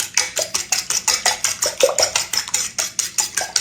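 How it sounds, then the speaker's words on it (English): Whisk or fork rapidly beating four large eggs in a bowl for an egg custard pie, a steady run of quick clinking strokes against the bowl, close and fairly loud with no talking. "I've got 4 large eggs, and you beat it up really good"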